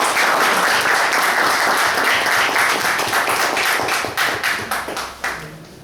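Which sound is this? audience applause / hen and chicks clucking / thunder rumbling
audience applause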